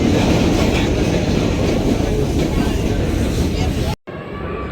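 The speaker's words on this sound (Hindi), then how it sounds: "तो ये पाथ ट्रेन ने यहाँ उतार दिया।" A PATH train pulls into the World Trade Center station with a loud, continuous rumble of wheels on rails, which cuts off abruptly and then resumes more quietly.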